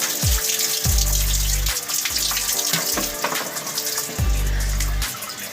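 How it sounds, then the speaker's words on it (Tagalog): Shower water runs loudly and steadily while hair is wetted, a broad hiss with repeated low splashing bursts as the stream is moved through the hair. "babasain muna natin yung buhok natin. Pero syempre maliligo tayo"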